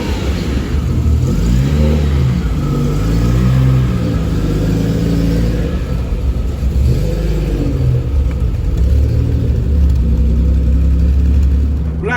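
A Jaguar XJS V12 cruises along a road, its engine a steady low rumble with rising and falling rev sweeps as it accelerates and shifts, loud and close from inside the car throughout.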